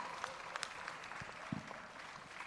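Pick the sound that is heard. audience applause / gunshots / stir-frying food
audience applause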